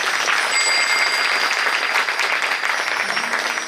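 Audience at a Bhagwat Katha religious gathering claps loudly to welcome a pandit, a dense, steady burst of applause filling the room from start to finish, with no voices over it.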